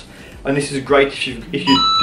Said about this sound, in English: sorry my phone is going off